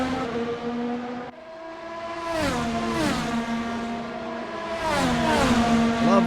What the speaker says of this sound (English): the sound of these cars revving and high revving as they go past one of these camera stations